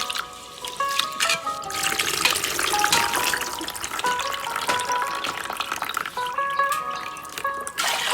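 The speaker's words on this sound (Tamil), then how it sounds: "அரிசியை கழுவியாச்சு, பானைக்கு போட்டாச்சு." Rice being washed by hand in a pot of water in a village kitchen, a steady sloshing and trickling of water that carries on throughout, with faint tonal background sounds.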